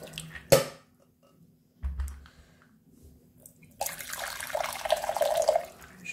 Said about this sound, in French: Alors voilà, 400 ml d'eau bouillante.